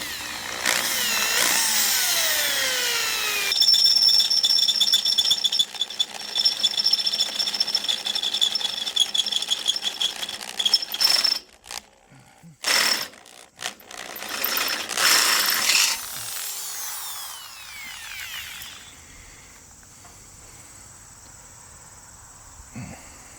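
A 3/8 inch power drill boring a hole through the body of a 1994 tandem axle trailer for light wiring, loud and close with a bright whining grind, stopping and restarting in bursts before fading out.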